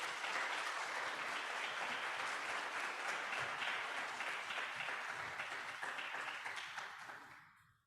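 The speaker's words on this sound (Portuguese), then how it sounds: "yo les pido que le demos un fuerte aplauso" A large audience at an academic conference claps together in a dense, sustained round of applause that holds steady for several seconds and then fades away.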